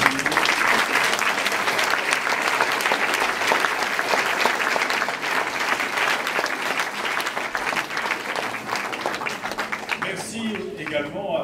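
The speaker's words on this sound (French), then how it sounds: "On peut l'applaudir." A theatre audience at a July 2012 staging of Monsieur de Pourceaugnac claps in a long, full burst of applause lasting about ten seconds, then it thins out as a voice begins speaking at the end.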